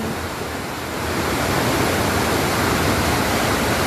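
Flash flood (galodo) in Koto Tuo, IV Koto, Agam: a loud, continuous roar of rushing water, broadband and steady, swelling slightly after the first second with no talk.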